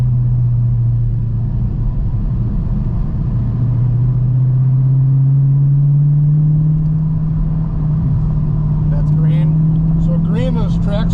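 A car running on a race track at steady throttle during a track day gives a loud, even engine drone with a slowly rising pitch, and a brief horn-like whine near the end.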